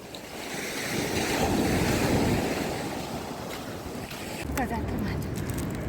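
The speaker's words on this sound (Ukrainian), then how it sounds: "от диво, що вітру немає, а такий шторм" Storm waves roll onto the Black Sea shore at Odesa's Golden Shore near the 14th–15th Fontan stations on a windless day, a continuous loud roar of surf with rushing wash and occasional crashes.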